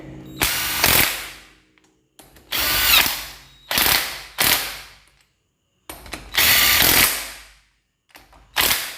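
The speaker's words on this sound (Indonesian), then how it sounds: "Kita kencengke pelan-pelan menggunakan impact." An impact wrench slowly tightens bolts on a GL-series engine block, about six separate loud whirring bursts of one to one and a half seconds each, with short silent gaps between them.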